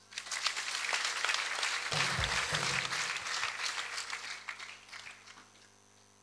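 A church congregation applauds together in a sustained burst of clapping that fills most of the moment before tapering off toward the end.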